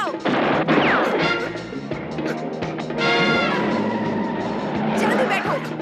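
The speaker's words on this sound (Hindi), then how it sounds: "उसने मुझ पर गोली चलाई।" Gunshots ring out in a movie fight scene, several sharp loud cracks mixed with crashes and vehicle noise, with voices shouting underneath.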